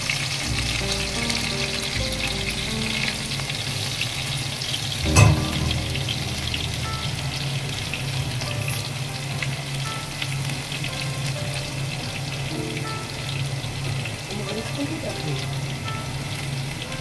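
Chopped garlic frying in oil with cinnamon and ground cardamom, a loud, continuous close sizzle with one sharp clank of a utensil partway through and light stirring scrapes.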